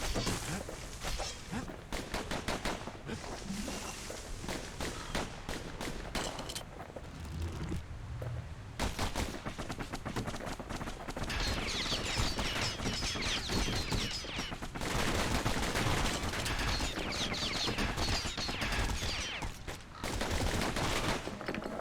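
Rapid gunfire from the Kid's twin guns in the action game Bastion, long bursts of crackling shots with thuds mixed in, one brief lull, then heavy sustained firing again, loud and up close.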